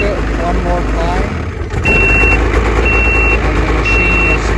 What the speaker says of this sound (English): You can hear the obnoxious beep. Let you know that it's definitely in reverse.